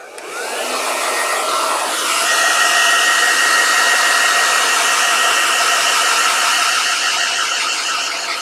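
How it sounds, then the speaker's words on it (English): A hair dryer blows steadily to dry paint on a leather holster, a loud continuous whirring hiss with a faint rising whine near the start, running alone without talk. "now I'm gonna hit it with the hairdryer again real quick"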